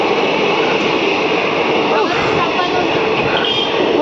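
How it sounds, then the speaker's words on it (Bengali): A train pulls away from a station platform with a steady, loud rolling rumble and rail noise, while people talk nearby over it throughout. "ট্রেনটা চলে যাচ্ছে"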